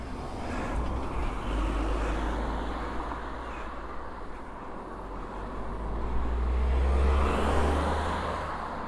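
Cars pass cyclists on a Cornish road with a broad engine rumble and tyre roar that swells, eases off, then builds again to a close, loud pass before fading.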